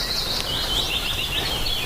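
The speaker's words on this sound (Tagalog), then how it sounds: "yung huni ng mga ibon" Birds chirp and twitter steadily at a riverside nature camp in Tanay, Rizal, a continuous high chorus over soft running water and outdoor ambience.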